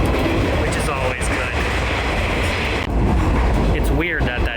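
A train rides along rails in Japan. The rumble is loud and steady with faint clatter, and there is a rising whine near the end. Someone talks briefly over it.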